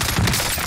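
A short, loud burst of rapid automatic gunfire from a shooter video game, dense and continuous for under a second.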